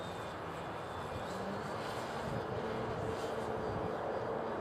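Funtana RC model airplane flying in gusty wind, its engine drone steady and moderately loud throughout, mixed with broadband wind buffeting.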